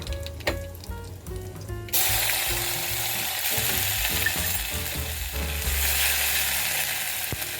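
Cumin and mustard seeds hit hot oil with curry leaves and a pinch of asafoetida for a bhaji kadhi tempering. A short clatter comes first, then a loud, steady crackling sizzle continues to the end.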